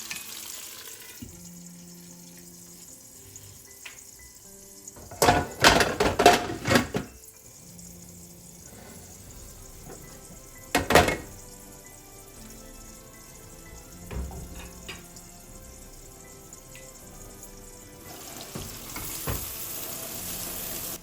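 Onions softening in a pan, a steady low frying sizzle running under sharper clatter and stirring noises, with a few louder bursts midway; no one speaks.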